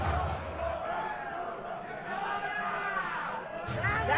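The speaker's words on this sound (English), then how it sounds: "I think the Garireo fans are closer to the mic" Esports tournament crowd at EVO 2014 during a BlazBlue Chrono Phantasma top-eight final, a mass of shouting and chanting voices rising and falling throughout, fairly distant and blended with announcer commentary.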